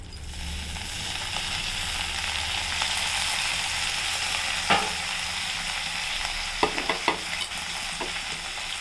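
Finely chopped fenugreek leaves frying lightly in a pan, a close continuous sizzle with occasional sharp scrapes and taps of the spatula stirring, a cluster of knocks near the end.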